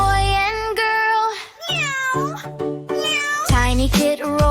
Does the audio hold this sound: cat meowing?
yes